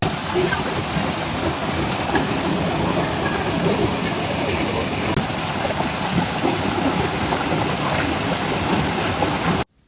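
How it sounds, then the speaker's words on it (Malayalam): A waterfall beside an ancient cave temple roars in a loud, steady, broadband rush that fills the whole scene until it cuts off abruptly at the end. "ഇതാണ് ആ വെള്ളച്ചാട്ടം"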